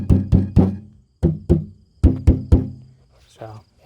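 Dull, muffled knocks on a sound-deadened car door panel, about eight thuds in loose pairs and singles, close by, followed by a brief bit of talk.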